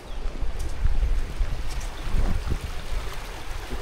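Water current rushes steadily through a fish ladder at a dam on a small stream, a continuous broadband roar with gentle surges, close and without voices.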